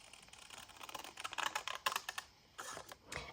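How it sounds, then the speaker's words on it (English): A vintage photo has its background cut away with quick, crisp snipping and clicking noises close up, coming in an uneven burst that grows busier in the middle before tapering off. "So the first thing I'm going to do is cut away this background."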